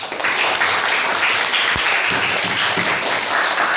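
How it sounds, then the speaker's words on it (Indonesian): Pupils in a classroom applaud together at the end of a practical lesson on sujud sahwi, a dense, steady burst of clapping lasting several seconds with a single low thump partway through. "Tepuk tangan untuk semuanya."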